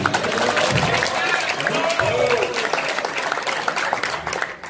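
Audience at a fast-breaking gathering claps loudly and continuously, with a speaker's voice rising briefly over the dense applause.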